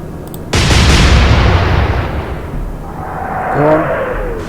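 A warship's main gun fires in the naval game Atlantic Fleet, a single loud deep boom that rolls on in a long fading rumble, with a voice speaking faintly toward the end.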